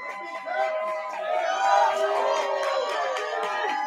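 A large crowd at a Maryland versus Penn State ice hockey game cheers and shouts in a dense, continuous roar, moderately distant and swelling briefly in the middle.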